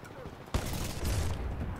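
An energy shotgun fires in Titanfall 2, a sudden close blast followed by a dense burst of rattling gunfire and rumbling impacts over a short stretch, with a voice reacting in the background.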